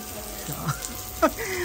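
A resort shower is turned on and water runs with a steady hiss, while brief voices and an exclaim sound over the flow in a short burst.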